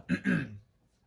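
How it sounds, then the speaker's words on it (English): A short throat clear or cough, two quick harsh bursts close to the microphone, then a quiet pause, alone without talk. "Excuse me, I got a cough."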